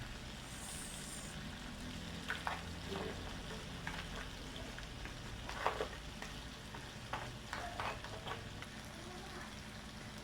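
Onion fries with seafood in a pan for ginataang seafood, a low steady sizzle under scattered, soft scraping stirs with a few sharper clinks, close and quiet throughout.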